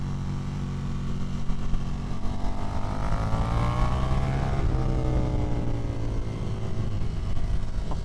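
A 2024 KTM Duke 390 motorcycle engine pulls hard at speed, its note rising then easing back, with a loud, continuous rasp and wind rush and no voices.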